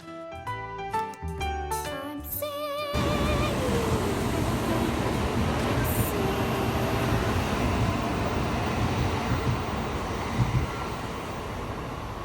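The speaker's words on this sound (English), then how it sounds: "We took the bullet train back to Tokyo and the Palace Hotel." Aboard a Japanese bullet train bound for Tokyo, a few seconds of music give way to a steady, broad rushing rumble of the carriage in motion that holds on evenly to the end.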